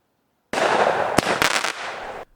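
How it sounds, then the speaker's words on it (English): Fireworks burst over a hilltop summer solstice party: a sudden loud blast opens into a dense crackling roar, sharp cracks punch through the middle, and the crackle then fades away. "the fireworks crashed above us and rained golden ash down on us"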